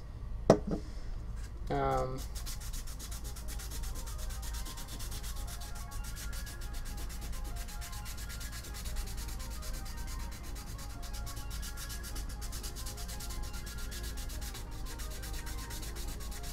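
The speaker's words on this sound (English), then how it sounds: "I sanded way more than I probably had to" A 3D printed magazine is sanded by hand in steady, close back-and-forth rubbing strokes that continue throughout, after a brief sharp knock near the start.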